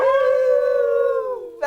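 Human voices imitate a dog's howl in one long, sustained wail that slowly sags in pitch before breaking off.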